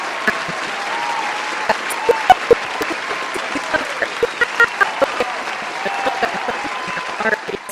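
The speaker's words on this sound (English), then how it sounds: "everyone give a big round of applause for Vetta Borne" Studio audience applauding to welcome an interview guest, steady clapping of moderate loudness with scattered sharper individual claps standing out across the whole stretch.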